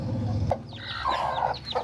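A mother hen gives a few short, agitated clucks and squawks as she is picked up, close and fairly loud, with rustling in the background.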